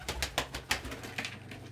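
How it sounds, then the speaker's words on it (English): Pigeons or doves cooing in a relaxed indoor bird setting, a series of soft, repeated calls spaced through the short stretch at moderate, close volume with low background hum. "the birds be doing neat bird things"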